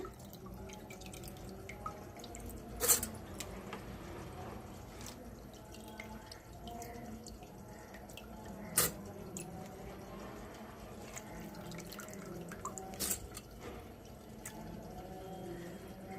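Water drips and trickles steadily from draining soaked rice, with a few sharper splashes now and then, quiet and close, with no one speaking.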